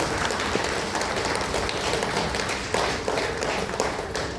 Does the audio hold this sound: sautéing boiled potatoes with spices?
no